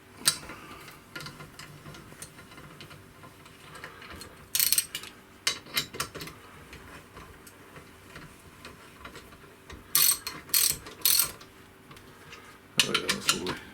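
A ratchet tightens bolts on the bearing blocks of a 24-inch telescope in a workshop, giving quick clicking bursts separated by pauses, over a faint steady background hum.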